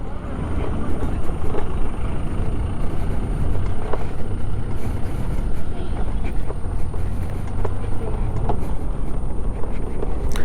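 A Bajaj Chetak C25 electric scooter rides over a dirt road, giving loud continuous rumble and wind buffeting with occasional bumps and rattles throughout.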